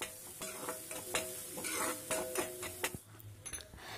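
Salt, turmeric and chili powder being stirred into a Hyderabadi-style stuffed brinjal curry in a pan, with repeated clinks and scrapes of a spoon over a steady sizzle, close and moderately loud.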